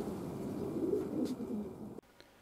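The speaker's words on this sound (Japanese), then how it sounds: "鳩が今降りてきたところです。" Pigeons coo in a low, steady murmur as a flock settles down after flying, the sound continuous and fairly close for two seconds before it abruptly drops away to near silence.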